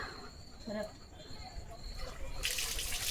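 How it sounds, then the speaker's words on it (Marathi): A household tap turned on for a German Shepherd to drink, its gushing rush of water bursting in near the end after quiet background and people talking. "पाणी चालू कर म्हणतोय तो प्यायचं आहे पाणी त्याला चालू कर नळ"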